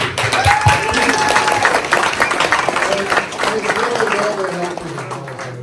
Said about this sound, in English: So round of applause to you guys.